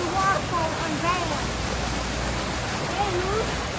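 An indoor waterfall inside a Cabela's store rushes with a steady, broad roar that fills the space, while faint voices of people talking come and go over it.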